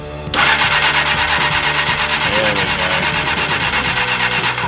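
Engine cranking over after its spark plugs and contacts were cleaned and sanded, a loud continuous starter churn with a rapid rasping rhythm running steadily from just after the start to the end.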